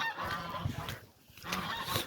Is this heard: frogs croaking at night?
no